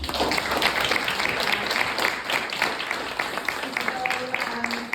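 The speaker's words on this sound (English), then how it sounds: "One more round of applause." Sustained audience applause fills the room after an artist talk, a dense wash of clapping from a seated crowd that carries evenly to the end.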